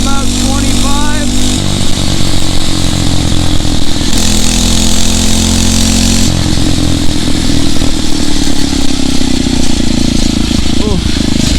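A Phatmoto Rover 79cc four-stroke motorized bicycle runs at full throttle with a loud, steady, buzzing engine drone that continues without a break throughout the ride.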